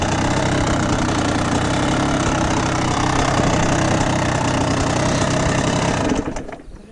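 A dirt bike engine idles in neutral, a loud, steady, close-up mechanical rumble with a rough, knocking texture that holds for several seconds before cutting off abruptly and fading near the end.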